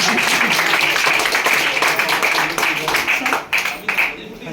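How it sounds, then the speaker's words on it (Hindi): A crowd at a business seminar on AWPL earnings breaks into loud, dense applause that holds steady and then thins into scattered claps near the end, with a voice briefly audible underneath. "जोरदार ताली बजाओ सर के लिए।"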